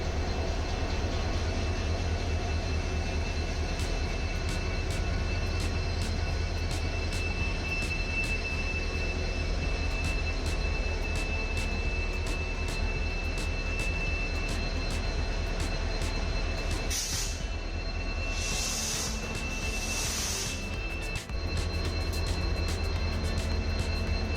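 A train on the Nilambur line running steadily and loudly, with a constant low rumble and rhythmic wheel clatter on the rails, a brief squeal or hiss near the end, and no talking.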